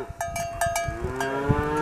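Spotted cattle passing by, with loud close lowing and moos over the clank of a cowbell and general outdoor noise.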